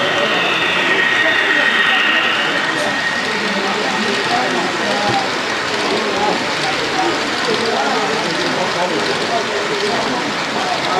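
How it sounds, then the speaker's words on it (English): A train rolls past at a train show, a steady broadband rumble and rushing noise filling the whole stretch at close range with no clear breaks. "And there's a train."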